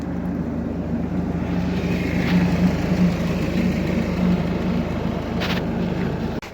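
A Ford engine, from a Galaxy, Kuga or S-Max, idles through a DPF regeneration with a steady, close, even rumble and hum that holds unchanged throughout, with no talking.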